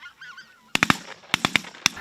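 Geese honk in a quick series of sharp, fairly close calls, some paired or clustered, following a short faint warbling stretch.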